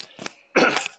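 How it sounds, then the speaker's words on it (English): A loud cough right into the microphone, one short burst followed by a second, stronger burst of harsh noise, with no talking. "didn't cough straight into the mic"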